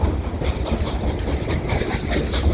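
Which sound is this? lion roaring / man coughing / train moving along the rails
train moving along the rails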